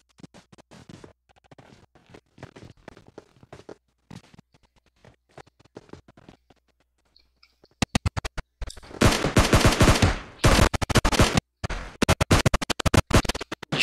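Rapid gunfire in PUBG Mobile played on PC, with sparse scattered shots at first and then loud, dense bursts of automatic fire, close and sharp, with no talk.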